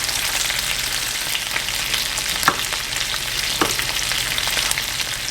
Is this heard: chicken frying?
yes